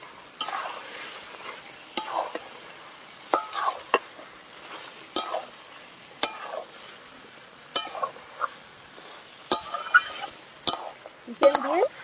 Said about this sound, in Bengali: চিকেন দিয়ে ভালো করে একদম মিশিয়ে নিয়েছি